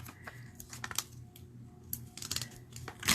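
Scissors snipping paper craft pieces for a Stampin' Up! card, a series of short crisp cuts in uneven rhythm close by, with light handling noise between them.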